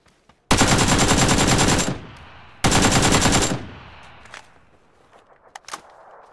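A big gun firing in PUBG on the Miramar map, two long sustained bursts of rapid automatic fire, loud and close, followed by a fading tail and scattered softer noises.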